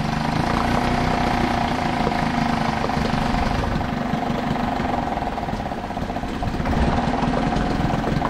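A Suzuki 2.5 HP outboard engine with a freshly repaired carburetor idles steadily and smoothly at low speed, a close, even mechanical putter running throughout with no talk.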